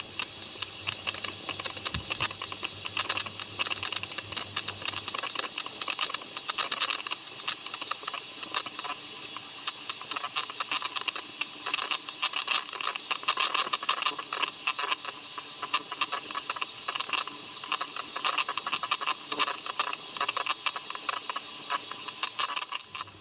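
An electric mixer whisks banana chocolate cake batter in a continuous, even whirring buzz with a fine rattling texture, running close and steady without pause.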